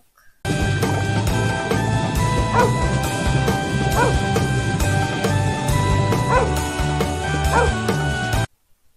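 Repeated yipping dog barks over steady background music, a string of sharp, evenly spaced barks throughout.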